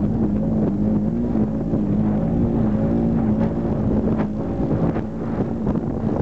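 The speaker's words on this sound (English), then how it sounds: "riding with Chad in the Razor 900" A Razor 900 side-by-side engine droning steadily while riding off-road in Mabton, Washington, loud and close with constant wind buffeting over the microphone.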